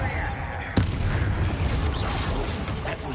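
A Bombarda spell explosion in the video game Hogwarts Legacy lands as one sharp blast amid dense, noisy game combat sounds that continue throughout.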